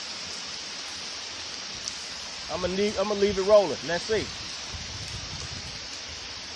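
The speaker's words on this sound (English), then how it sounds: "It is raining." Steady hiss of rain falling outdoors during a bluegill fishing outing, continuous and even throughout, with someone speaking briefly in the middle.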